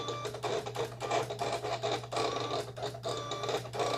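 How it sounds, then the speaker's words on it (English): A Silhouette Cameo 4 cutting machine drawing vinyl from its roll feeder, a close mechanical whir with a steady motor hum and rhythmic scraping pulses as the carriage moves back and forth. "it is pulling the vinyl from the roll or from the little give that I gave it"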